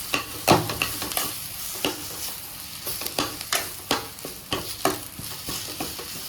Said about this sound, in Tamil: எண்ணெயில் நல்லா நல்லா வதக்கி விடுங்க